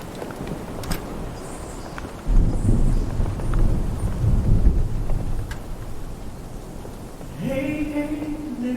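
Rain and rolling thunder in a video game's stormy outdoor scene, a low rumble building and swelling over steady rainfall, with music and a brief voice-like tone rising near the end.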